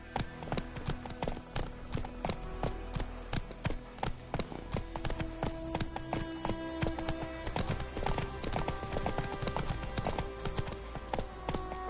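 Roach, Geralt's horse in The Witcher 3 video game, gallops with a steady, rapid clip-clop of hooves that runs throughout, mixed under prominent orchestral game music.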